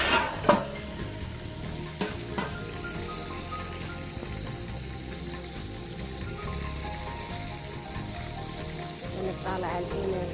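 Onion frying with spices in a pan while cooking a hamour fish dish, a soft steady sizzle and crackle running throughout at moderate level, with a few louder clinks and stirring knocks early on.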